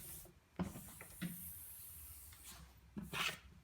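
A brush rubs along a waxed ski base from tip to tail, giving soft, close scraping strokes in a few separate passes, with quieter gaps between them.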